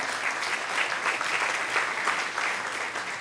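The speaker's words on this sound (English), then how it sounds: "we also have to applaud him" Audience at an event against antisemitism applauding a consul general, a steady wash of many hands clapping, moderately loud and even for a few seconds.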